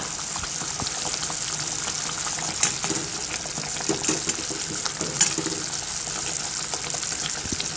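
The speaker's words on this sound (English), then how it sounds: "I'm going to put this jaggery which is in liquid form." Liquid jaggery pours and sizzles into a pot of boiling coriander chutney, a steady close bubbling and hissing with small splashes and stirring noises throughout.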